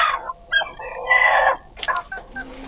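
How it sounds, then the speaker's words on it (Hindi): Roosters clucking close by, a series of short bright calls with one longer drawn-out squawk in the middle, no talking. "दो ये मुर्गे"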